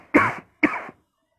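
A person gives two short, sharp coughs in quick succession, close and clear, with silence afterward.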